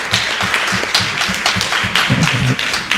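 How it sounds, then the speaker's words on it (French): A live audience claps for the candidates at a 2021 federal election debate, giving a dense, continuous patter of hand claps that carries on evenly throughout. "Je vous invite à les applaudir encore une fois."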